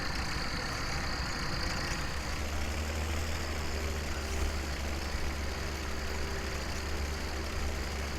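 Tractor engine in Farming Simulator 17, spreading fertilizer on crops, a steady low heavy diesel drone running continuously at an even level with no talk over it.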